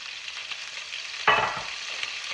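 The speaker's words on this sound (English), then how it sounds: "take my onions, make sure they're all ringed out real good. And take and toss them in with that remaining oil" Wrung-out onions are tossed into hot leftover oil in a venison roasting pan, a soft background hiss then a sudden loud sizzling burst that slowly settles, no voices.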